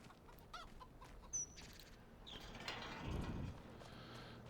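Soft, intermittent clucking from chickens in the video game Farming Simulator 25 comes through a quiet, slightly mechanical background, with a brief louder rustling burst partway through.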